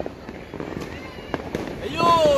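New Year's midnight fireworks burst in a run of sharp pops and crackles, ending with a rising whistle as a rocket goes up, with distant voices and cheering underneath.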